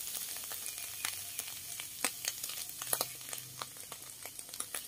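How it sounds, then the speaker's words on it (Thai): Curry paste stir-frying in rendered beef fat over low heat for a Thai beef and pea eggplant dish, a soft crackling sizzle with frequent small pops and occasional stirring, close and fairly quiet. "เครื่องลงไปผัดไฟอ่อนๆครับไม่ต้องแรงครับ"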